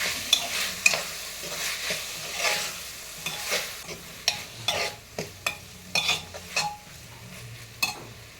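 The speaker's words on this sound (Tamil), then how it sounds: "எல்லாம் சேர்த்து நல்லா வதக்கலாம்" Ingredients for coconut milk rice are sautéed in a pan, a light frying sizzle broken by repeated sharp clinks and scrapes of a spoon stirring against the metal.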